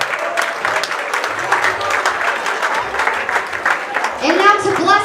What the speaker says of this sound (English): Big round of applause as they make their way.